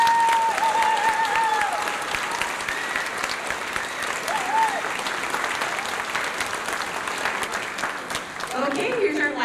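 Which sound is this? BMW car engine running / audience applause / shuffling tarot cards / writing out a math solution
audience applause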